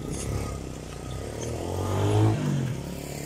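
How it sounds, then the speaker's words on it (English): A homemade motorcycle built from an old bicycle engine cranking and sputtering as it tries to start, with clattering mechanical noise and a brief surge in engine rumble, heard up close without speech. "So let's start the bike."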